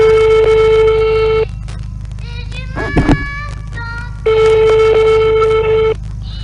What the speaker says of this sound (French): Appel du contact Casimir mobile en cours.